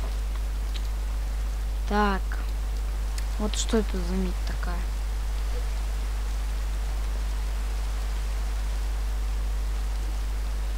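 Steady Minecraft rain falls as an even, hissing wash throughout, constant and fairly soft, while someone speaks briefly over it near the start.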